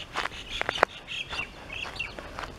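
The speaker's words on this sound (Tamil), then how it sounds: "பார்த்தீங்களா, மயில் கத்துது." Several sharp, loud peacock calls, shrill and wailing, repeat in quick bursts nearby on a farm, with no talking.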